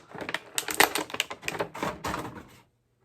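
A Marvel Legends Dazzler figure is pried out of its plastic packaging, making close, loud crackling and snapping for about two and a half seconds before it stops abruptly into silence.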